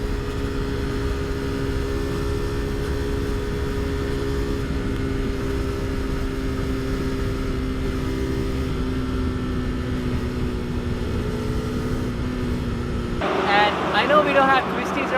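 A 2017 KTM RC390 motorcycle ridden through corners, a steady droning engine hum beneath heavy wind rush, with a voice talking over it near the end.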